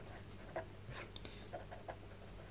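Numbers being written by hand with a pen on paper, faint scratchy strokes in a few short bursts against a quiet background hum.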